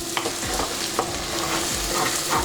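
Garam masala stirred into a prawn, egg and drumstick curry in a pan: repeated scraping strokes of a spoon over a constant close sizzle, with no talking.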